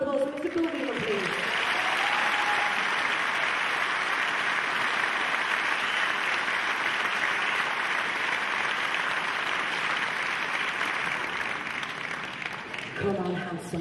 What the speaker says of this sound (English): Can I have a huge round of applause for Mr. Bill Wheeler, please?